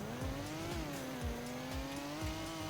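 A damaged sports car with a smoking engine drives on in the video game Car Crushers 2, its engine giving a steady loud drone with a slowly wavering pitch and repeated low thumps underneath.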